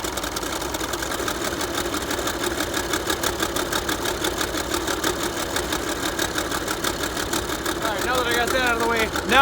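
A Massey Ferguson 1105 tractor engine idles steadily while warming up, a continuous close rhythmic diesel chatter that holds level throughout, swelling slightly louder near the end.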